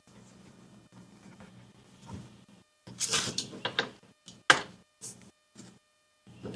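A Neewer UA057 boom arm clamp with rubber-faced jaws being fastened to a desk, close scraping and clattering bursts followed by a few sharp knocks and clicks separated by short silences.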